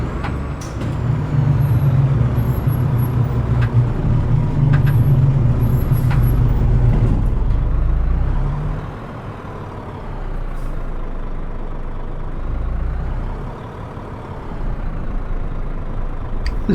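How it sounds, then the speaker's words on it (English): Iveco Stralis truck engine from a realistic engine sound mod in Euro Truck Simulator 2, a loud low diesel drone that shifts pitch midway as the revs drop, then settles into a steadier rumble with faint background hiss. "I'm in the Iveco Stralis, and I'm using the Real Engine Sounds on All Trucks mod"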